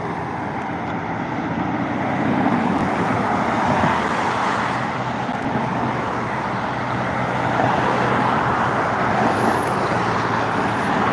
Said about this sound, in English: You see that traffic is starting to get backed up.